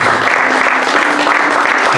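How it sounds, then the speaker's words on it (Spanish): Church congregation applauding loudly and steadily, a dense unbroken wash of clapping from many hands close by for the whole stretch. "te queremos dar un fuerte, pero fuerte aplauso"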